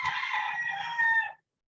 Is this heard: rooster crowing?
yes